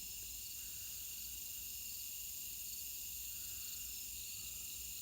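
Dense, steady chorus of insects or frogs calling outdoors on a still evening near a barn, a continuous high shimmering drone with no pauses, fairly faint and uninterrupted by talk.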